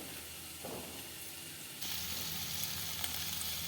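Small potatoes roast in a pan with onion, giving a steady close sizzle and crackle that grows louder partway through as they are stirred, with a faint scrape and no voices.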